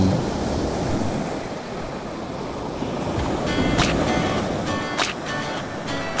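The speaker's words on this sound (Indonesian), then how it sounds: "serangkaian ombak super besar yang menuju pantai" Ocean surf rolls steadily toward the shore in a broad, continuous wash, with a few brief brighter splashes near the end and some wind rumble throughout; no voices.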